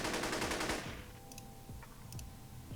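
A sampled AK rifle burst fires in a rapid, dense crackle of shots inside a Cochise-style hip-hop beat, then gives way to clicking hi-hats and deep bass thumps.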